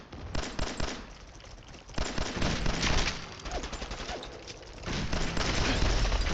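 Dense, continuous gunfire bursts and explosions from a firefight in the video game Fallout 4, loud and close, with rapid overlapping shots rather than single sniper-rifle reports.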